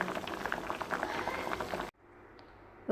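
Tomatoes for tomato rasam boiling in a pot of water, a dense bubbling for about two seconds, then a sudden drop to a faint hush.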